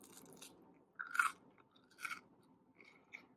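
Crunchy Udi's gluten-free pizza crust chewed up close, with three distinct loud crunching bites spaced about a second apart over quiet mouth noise.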